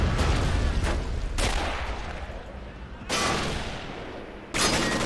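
Loud rattling machine gun fire and scattered battlefield shots in the WWII game Men of War: Assault Squad, coming in sustained bursts with sharp restarts.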